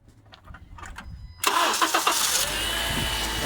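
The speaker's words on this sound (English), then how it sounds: "I'm gonna crank the engine and see what happens." A Honda Accord engine, just repaired after a no-crank fault, cranks with a few quick starter bursts, then catches and roars to life, settling into a loud, steady idle nearby.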